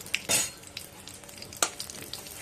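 Dried red chillies, bay leaf, cardamom and cloves fry in hot oil, giving a soft continuous sizzle broken by a few sharp stirring scrapes and clinks of a utensil against the pan.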